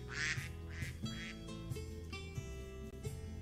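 Minecraft ducks quack in repeated short nasal bursts over a steady background music track, fairly quiet overall.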